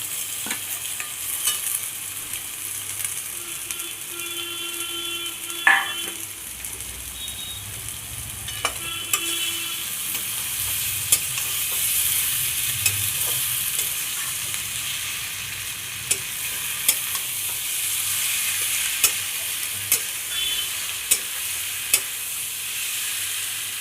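Boiled potatoes are stirred in a frying pan, giving a steady soft sizzle throughout, with scattered clicks and scrapes of the spoon against the pan and one louder knock partway through.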